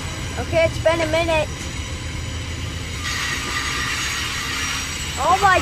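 A loud Amtrak train at a station rumbles nearby with high metallic wheel squeals rising and falling, while people talk over the noise.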